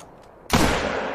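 A single loud, close rifle shot in the hunting game theHunter: Call of the Wild cracks sharply out of quiet ambience and leaves a long decaying echo.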